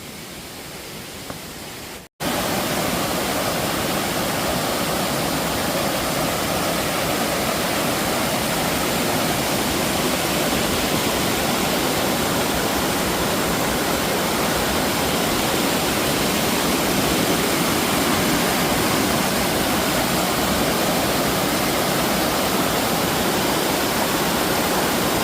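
Mountain stream rushing through the moss valley of Gariwangsan in Jeongseon under dense primeval forest, a loud, steady roar of flowing water that starts abruptly after a short quiet moment and continues unbroken.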